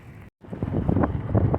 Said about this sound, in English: I know it's windy as hell.